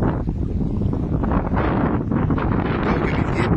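A steady breeze rushes over the microphone on a lake shore at Paris Oasis in Egypt. The gusty rumble is loud and constant, with no voices.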